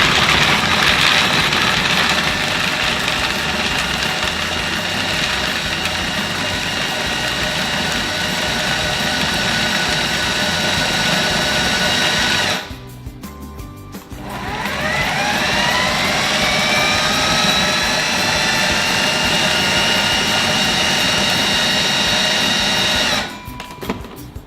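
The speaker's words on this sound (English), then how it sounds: "Put it in a food processor, or if you have a Thermomix, they're pretty good as well" A food processor blending dates and coconut oil whirs loudly in a steady grinding buzz, stops briefly near the middle, then spins back up with a rising whine and runs until it cuts off near the end.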